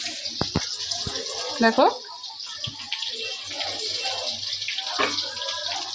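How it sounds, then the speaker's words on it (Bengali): Chopped onions fry in a pot for chicken pulao with a steady, bright sizzling hiss. A few knocks and scrapes of stirring break through, and someone talks over it. "এই যে লাল লাল করে আগে ভেজে নিচ্ছি পেঁয়াজ কুচিটাকে।"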